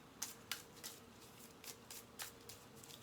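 Bakugan game cards being shuffled nearby, quiet riffling and crisp flicks repeating in an uneven rhythm with no talking.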